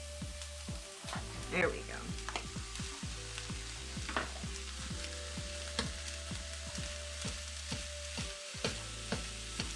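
Ground beef sizzles steadily in a pan beside ingredients already cooking, crackling continuously up close while being worked in with a fork, with a brief spoken remark over it.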